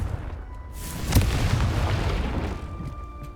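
Blasting-spell explosion in Hogwarts Legacy: a loud booming burst that rolls into a broad, rumbling decay lasting a couple of seconds, with no talk over it.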